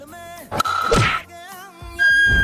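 A ball strikes a person with a sharp, loud thunk amid a noisy family scene, a single impact followed by a brief burst of shouting and voices.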